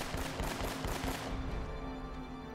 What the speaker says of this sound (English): blind shooting, hoping I hit him